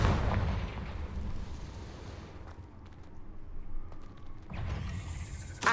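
Repeated Confringo fire-spell explosions in the video game Hogwarts Legacy, dense booming blasts at the start and end with a lower rumble between, loud and continuous.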